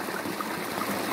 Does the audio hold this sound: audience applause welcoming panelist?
no